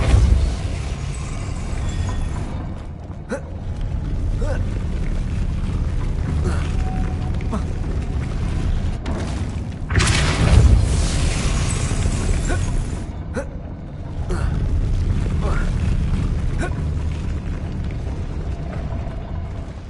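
A Depulso spell in a Hogwarts video game goes off as a loud booming blast with a rumbling surge, set against steady game ambience and mechanical creaks.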